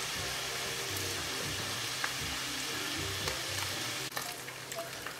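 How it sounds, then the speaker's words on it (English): Bacon and hash browns fry in a pan with a steady, even sizzle and crackle, plus a few faint scrapes and a small clatter near the end. "it looks like our bacon's getting done here, and our hash browns are getting done"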